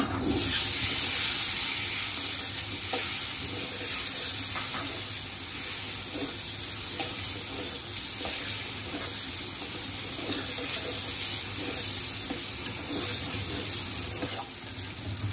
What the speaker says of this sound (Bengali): এখন ডিমটা ভেজে নিচ্ছি, তেলটা গরম।